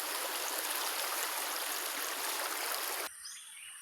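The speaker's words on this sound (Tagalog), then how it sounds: "Ayan po ang ilog mga idol." A river flows beside wide rice paddies. The loud, steady rush of water is heard close up, then cuts off abruptly to a much quieter outdoor background near the end.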